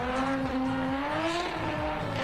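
A drifting car in a drift limbo contest on a track, its engine holding a steady rising tone with continuous tire squeal, loud and close throughout.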